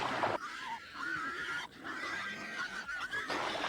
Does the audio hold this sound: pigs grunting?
yes